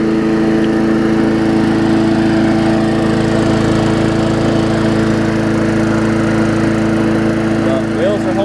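A Murray lawn mower engine fitted with a bigger muffler runs at a steady, close, loud drone with no change in pitch throughout.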